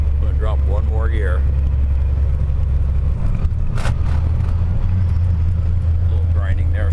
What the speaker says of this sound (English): A little grinding there, still getting used to these gears.